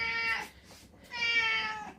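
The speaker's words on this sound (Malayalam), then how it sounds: "എൻ്റെ പൂച്ച ഇവിടെ കിടന്ന് കരച്ചിലോടെ കരച്ചിലാണ്" A cat meows twice, close and clear, each cry drawn out and plaintive with a short pause between.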